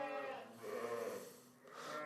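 Newborn lambs at a sheep farm bleat close by, one drawn-out wavering cry followed by a shorter second bleat, clear against a quiet background.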